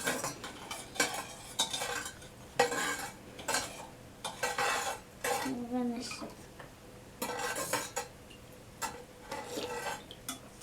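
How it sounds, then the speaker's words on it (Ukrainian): A spoon stirs milk with sugar in a pot for homemade yogurt, producing repeated clinks and scrapes in irregular bursts, moderately close, with voices talking in between. "Треба добре розмішати, щоб цукор розчинився."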